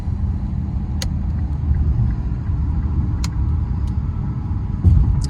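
Car with a 3.7 V6 engine cruising at night, a steady low rumble of engine and road noise with a few faint ticks and a brief bump near the end.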